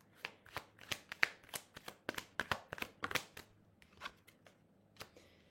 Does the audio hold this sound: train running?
no